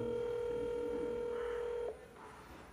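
An internet app phone call rings out over a loudspeaker as a steady electronic tone that cuts off partway through, followed by quiet room noise.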